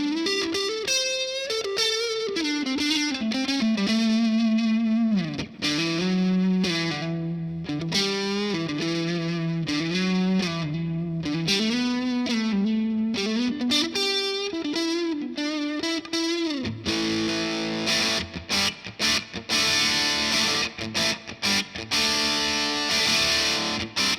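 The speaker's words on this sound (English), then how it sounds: "Let's get some more distortion in there." An electric guitar, a Stratocaster, runs through a Boss DS-1 distortion pedal set for heavier gain, playing sustained bent and sliding lead notes, then breaking into buzzy, crunchy strummed chords with loud, thick, saturated tone.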